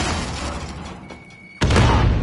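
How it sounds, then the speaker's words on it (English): In Call of Duty Modern Warfare co-op play, a steady din of game sound dips briefly before a sudden loud burst as a smoke grenade is deployed, followed by a sustained hissing rush. "Popping smoke."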